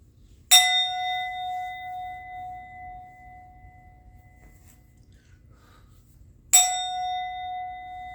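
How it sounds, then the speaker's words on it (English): A bell struck twice several seconds apart, each a clear ringing clang that decays slowly into near-silence, alone with no talk. "I'm going to ring the bell."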